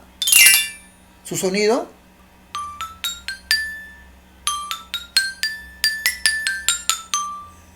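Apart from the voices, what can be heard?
xylophone being played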